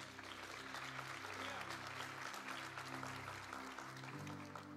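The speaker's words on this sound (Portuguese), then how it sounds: "Você pode aplaudir Jesus por isso?" A church congregation applauds in a dense, steady wash of clapping at a very low level, with sustained keyboard chords droning beneath it.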